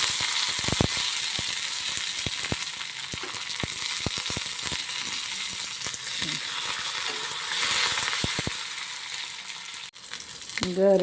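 Byadagi chillies and curry leaves fry in hot oil for a bitter gourd gojju tempering, a steady close crackling sizzle with scattered sharp pops and spits throughout, no talk.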